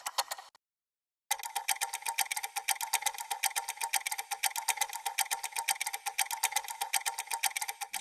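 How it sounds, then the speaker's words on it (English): Egg timer clocks tick fast and steadily, played as an arpeggio in a sampled instrument. The dense, even ticking runs on its own after a brief silent gap near the start. "you can listen to the different clocks and get a sort of rhythmic idea for them"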